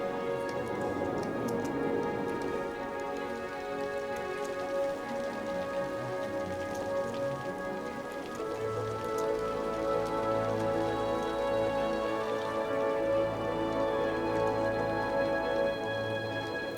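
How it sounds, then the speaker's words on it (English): Steady rain patters across the city in the Cities: Skylines city-building game, a constant dense hiss that runs the whole time beneath soft background music, with no voices. "And it's raining."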